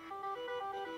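A one-second excerpt of the iPhone iOS 17 ringtone 'Canopy': smooth sustained electronic tones gliding between notes, steady and close with no voices.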